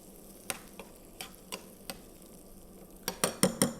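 Chopped garlic frying in a restaurant pan while being stirred, a low sizzle under a series of sharp utensil clicks and scrapes that grow quicker and louder toward the end.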